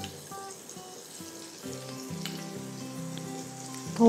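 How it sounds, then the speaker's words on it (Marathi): Green chillies go into hot oil already holding mustard seeds, curry leaves and asafoetida, giving a soft, steady sizzle that swells partway through, with faint tonal sounds in the background. "हे चांगलं तडतडलं की आपण आता यात हिरवी मिरची घालणार आहोत।"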